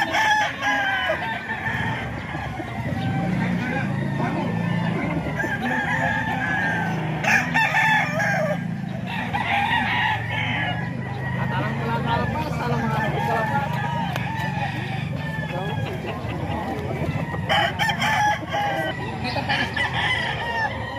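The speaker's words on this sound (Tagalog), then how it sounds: "Ito mga manok" Several roosters crow repeatedly at a gamefowl farm in Bocaue, their calls overlapping near and far amid constant clucking and farm background noise, with people talking underneath.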